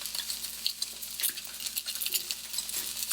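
A Wagyu steak fries in a pan on an electric stove top, its fat crackling and spitting in quiet, irregular pops over a soft sizzle.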